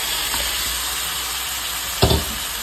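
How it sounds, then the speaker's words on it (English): Chopped tomatoes hitting a hot pan while making butter chicken give a steady, close sizzle and hiss, with a brief louder burst of frying about two seconds in as more goes into the pan. "So now we're gonna add the tomatoes."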